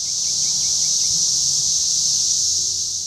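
A huge mass of cicadas fills the air with a loud, unbroken, high-pitched droning buzz, constant throughout with no pauses, plus faint low background noise and no speech.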